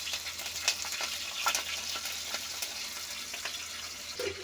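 Green chilies fry in hot oil for a shrimp curry, giving a steady faint sizzle with a few light crackles and pops, with no talking.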